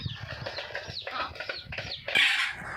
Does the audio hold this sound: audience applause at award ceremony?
no